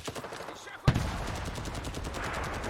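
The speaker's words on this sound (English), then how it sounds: "Very loud gun, this one." Loud rapid bursts of automatic gunfire in the video game Enlisted, a sharp crack then a fast, steady stream of shots, game-like and close.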